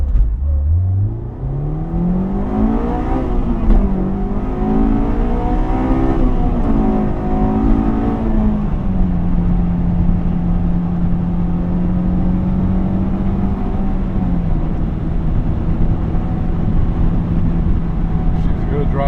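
A 2005 Honda S2000's engine climbs steadily in pitch as it accelerates from 0 to 60 through the gears, then holds a steady drone while cruising; continuous and fairly loud.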